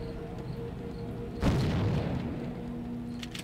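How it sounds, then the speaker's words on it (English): A muffled boom from grenades thrown in the Soldier of Fortune shooter game rolls out once midway through, swelling briefly over a steady low background hum and fading slowly. "That's throwing two grenades down there."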